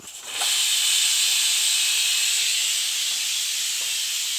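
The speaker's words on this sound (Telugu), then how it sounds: "Whistle number 1." A pressure cooker holding mutton pulao lets out its first whistle, a loud, close, continuous rush of hissing steam that starts abruptly and holds steady throughout.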